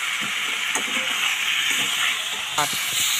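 Vegetables sizzle in a pan while being sautéed for a winter fish soup, a steady close hiss of frying with a few faint clinks over it.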